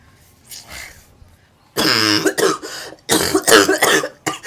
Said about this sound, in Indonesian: Lo kan batuk kan.